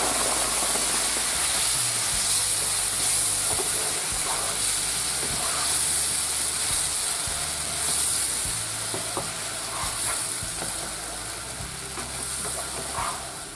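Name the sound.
sake with saffron sizzling in a hot pan with butter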